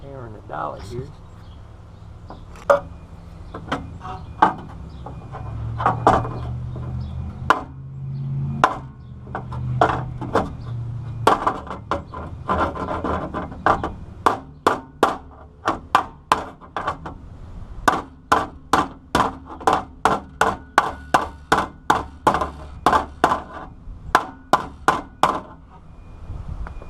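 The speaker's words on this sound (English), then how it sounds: "Little hammer in the dolly here." A small hammer strikes sheet metal against a dolly while straightening a car's engine bay: sharp, ringing metallic taps, sparse and uneven at first, then settling into a steady rapid series of close, loud blows, with some talk early on.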